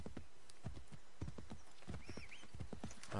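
A horse's hooves clip-clop steadily in Assassin's Creed 3, a quick regular trot of sharp knocks over a constant outdoor game ambience, with a brief whinny in the middle and no talking.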